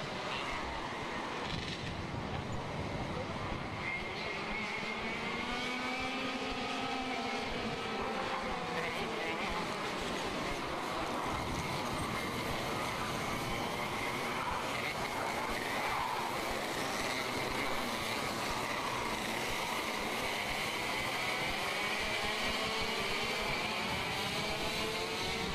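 Racing karts from the Singapore Karting Championship Masters class run a warm-up lap, a steady wash of engine drone with rising and falling pitch sweeps as the field passes, continuous and moderately distant throughout.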